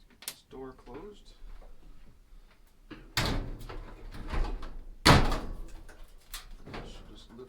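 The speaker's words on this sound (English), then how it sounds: "Let's get this door closed." The door of a GE clothes dryer is shut during a belt replacement, giving a couple of loud thumps and a sharp clunk close by, among handling noises and someone talking.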